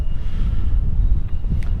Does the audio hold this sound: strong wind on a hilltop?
yes